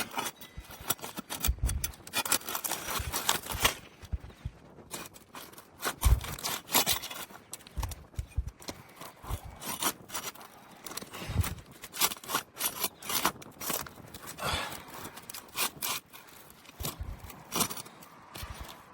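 A glued-down roof shingle corner on a house in Ankeny, Iowa is worked loose with a tool, giving close, irregular scraping, rubbing and crunching bursts that continue throughout.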